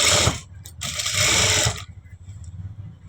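Domestic sewing machine stitching the edge of a blouse neck piece, running in two loud close bursts of rapid mechanical whirring with a brief pause between, then stopping into quiet.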